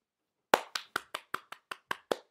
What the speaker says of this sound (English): I'm clapping if you can't hear it.